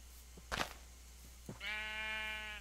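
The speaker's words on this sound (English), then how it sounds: "there's some sheep this way" Sheep bleating in the Minecraft video game: a couple of short soft sounds, then one sustained, quavering bleat, clear and close over a quiet background hum.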